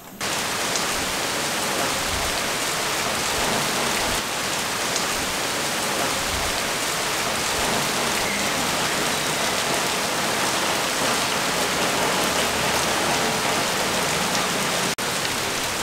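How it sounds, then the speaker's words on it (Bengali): Heavy rain with light wind pours steadily onto surfaces, a dense, loud, continuous hiss with no talk. "দেখো হালকা ঝড়ের সাথে বৃষ্টিটা হচ্ছে"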